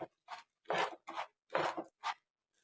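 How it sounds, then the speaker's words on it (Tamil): Semolina and sago dry roast in a pan without oil, heard as six quiet, rasping scrape strokes in an uneven rhythm with short silences between them. "இது எல்லாத்தையும் எண்ணெய் சேர்க்காமல் நல்லா வறுத்து எடுத்துக்கலாம்."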